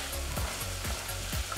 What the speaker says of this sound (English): while the onions are sauteing